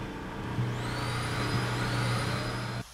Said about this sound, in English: We're gonna go ahead and turn on our vacuum system and turn on the automatic pump out.